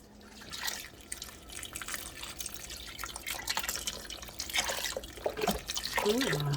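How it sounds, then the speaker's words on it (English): Broth pours into a Ninja Foodi slow cooker pot for a pot roast, a steady soft splashing trickle that runs throughout and rises slightly toward the end, fairly quiet and close. "And we're going to start adding our broth. And we're just going to put that right in."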